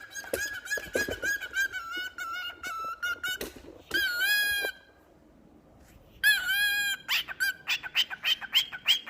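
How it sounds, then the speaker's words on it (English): A pet bird squawks and chirps in a kitchen, giving shrill, rapid bursts of calls with a brief pause in the middle, close to the microphone and with no talk over it. "Do y'all want to say hi to my bird?"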